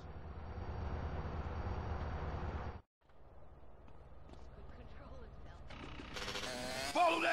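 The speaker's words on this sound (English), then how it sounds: "Follow that train!" Rumbling, clattering train noise in Grand Theft Auto: San Andreas, cutting out abruptly, then returning with mechanical clanks and rising engine sounds during a chase, voices speaking over it.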